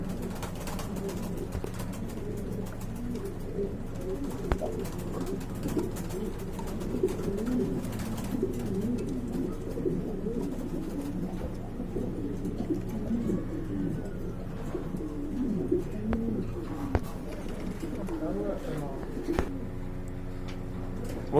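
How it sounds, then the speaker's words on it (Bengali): Pigeons, including a black Danish pair, coo steadily at a pigeon market. Several birds produce overlapping, low, rolling coos that continue without a break for about twenty seconds, close by and moderately loud. "এখানে দেখতে পাচ্ছেন এক জোড়া ড্যানেজ কবুতর রয়েছে একদম পিওর ব্ল্যাক কালারের"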